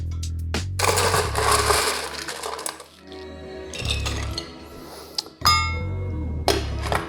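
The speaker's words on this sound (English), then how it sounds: "we're gonna strain that perfectly chilled Negroni into a rocks glass and add fresh ice" A chilled Negroni is strained into a rocks glass and fresh ice is added, giving bursts of clinking, crackling ice and liquid pouring with quiet gaps between them, close and fairly loud.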